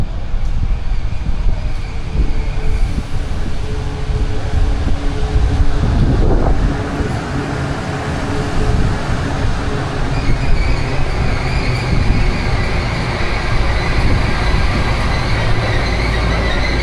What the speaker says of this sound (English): Guys, the train has arrived.